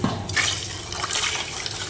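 Water poured over raw rice in a pot or bowl to soak it for a pulao, a brief, close, steady wash of liquid sound with light splashing, no voices.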